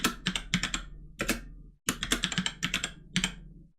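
Rapid typing on a keyboard while entering equipment details in a mobile app, close and clear, with bursts of key clicks broken by a short pause partway through.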